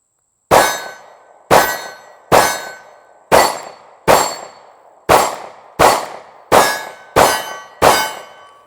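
A Taurus Millennium G2 pistol fires ten sharp, evenly spaced shots through its first magazine, about one per second, each crack loud and close with a quick ringing decay.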